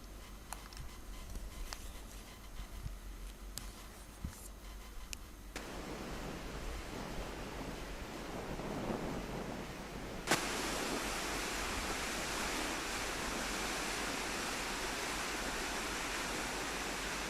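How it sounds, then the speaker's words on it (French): Natural waterfall playing from a film, a steady broadband rush that starts quiet with light ticks, swells after a few seconds, then jumps to a louder, fuller roar for the rest. "Ça, c'est des chutes naturelles."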